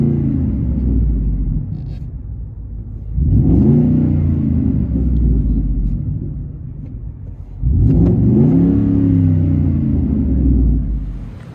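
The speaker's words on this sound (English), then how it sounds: "True dual straight pipe Ford F-150, 6-inch tips." Deep, loud exhaust rumble heard from inside the cab of a 2010 Ford F-150 with a 5.4L V8 and true dual straight pipes with 6-inch tips, swelling twice into rising revs before settling back to a low drone.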